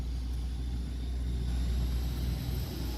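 Steady low rumble of a custom-built car's engine idling nearby, a continuous deep mechanical drone filling the whole stretch with no voices.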